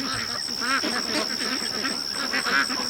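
A mixed flock of geese and ducks keeps up a dense, overlapping stream of honks and quacks close by, with a steady high-pitched whine running underneath.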